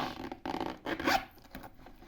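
A zipper on the back of a soft wool-felt item is pulled open in short rasping strokes, close and fairly quiet, with no voices.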